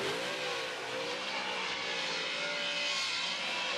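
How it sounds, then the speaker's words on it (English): A Formula Drift car engine revving hard during a competition run in New Jersey, a loud continuous high-pitched scream with rising and falling pitch as the car holds its drift, heard alone without commentary. "Wow, Landerville's got that horsepower on deck."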